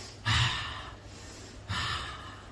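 A person breathes audibly as a demonstration, with two distinct, close breaths about a second and a half apart, each a sharp airy intake that tails off, with no talking.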